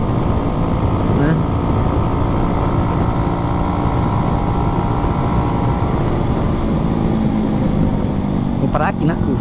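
Motorcycle engine running steadily with an odd, strained drone that holds loud and constant throughout, with a brief clattering burst near the end.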